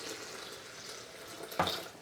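Water pours into a Vitamix blender jar holding quinoa, a soft steady trickle close by that swells into a brief louder splash near the end, with no talk over it.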